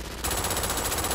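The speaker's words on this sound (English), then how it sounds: "I'm using shotgun and SMG" Rapid shotgun and SMG fire from the video game Brink, a quiet moment followed by a dense, loud burst of fast, continuous shots.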